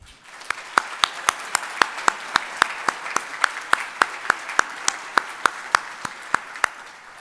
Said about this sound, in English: Now may we all applaud them.